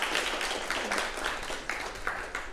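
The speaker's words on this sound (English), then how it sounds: "So if we could please clap it up for my mom." An audience at a digital entertainment conference applauds the speaker's mother. The clapping is faint and somewhat distant, a scattered patter with a few sharper claps rising out of it.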